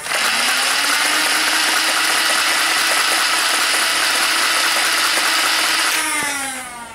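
A NERF Rapid Strike CS-18 blaster fires on full auto: a loud, continuous whirring buzz with rapid ratcheting for about six seconds, then it winds down and stops.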